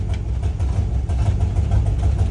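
A 1964 Ford F-350 truck engine, its carburetor running a little rich, idles steadily and close by with a deep, continuous low rumble that holds even throughout.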